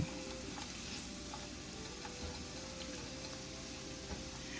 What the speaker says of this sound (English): We're gonna go ahead and just stir this around a little bit.